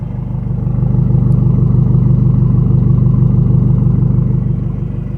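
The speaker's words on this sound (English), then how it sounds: "On idle now it sounds a little bit different, like a bit of a bump bump bump bump bump bump" Ford Fiesta engine idling with a newly fitted exhaust, a steady low rumble with a rhythmic bumping pulse, close and fairly loud, holding even throughout with no talking.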